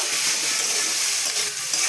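Spices for dalia khichdi fry in hot oil in a steady, close, hissing sizzle that holds even throughout.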